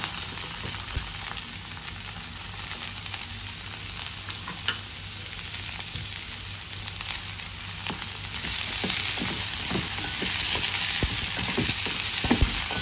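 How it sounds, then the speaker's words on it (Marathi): Vegetables including carrots and peas sauté over medium heat for garlic Schezwan fried rice, a steady close sizzle with scraping stirs that grows fuller and louder toward the end, no voices. "सगळ्या भाज्या चांगल्या परतवायच्या।"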